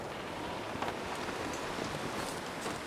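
Steady rain patters down with a constant wash of gusty wind, loud and close, with no voices.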